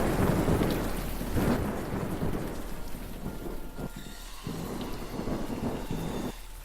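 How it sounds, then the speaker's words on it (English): Steady rain with deep rolling thunder fills the scene in the video game Unavowed, a dense, continuous downpour with rumbling swells and no voices. "You have a lot of rain and you have that monster thing in the background"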